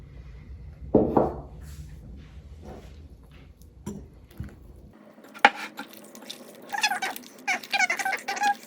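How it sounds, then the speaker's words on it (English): A salt and water mixture is poured into wet Tartine country loaf dough, giving a brief, faint close pour followed by soft wet squelches and squeaks as it is worked in, with no talking. "So let's add our salt and water mixture."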